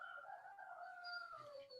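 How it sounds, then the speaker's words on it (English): A rooster on a farm crows in one long drawn-out call, faint and distant in the background, with no talk over it. "You can hear the rooster in the background too"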